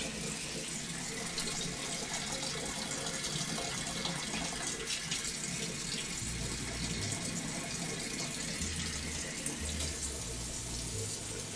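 Water runs steadily from a kitchen tap into a sink, a continuous hiss and splash lasting throughout with no voices.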